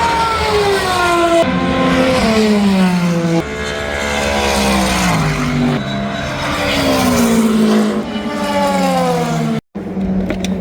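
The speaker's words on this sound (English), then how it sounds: "I'm going to have to show the Aston again because it just sounds so incredible." An Aston Martin race car at the Le Mans 24 Hours screams past, its high-revving engine rising and falling through gear changes, loud and close for about ten seconds before cutting out abruptly near the end.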